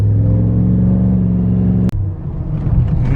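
A 2020 Duramax diesel pickup truck drives under throttle with a loud, steady engine drone, which breaks off abruptly as if shifting, then resumes as rougher rumbling road noise; no talking.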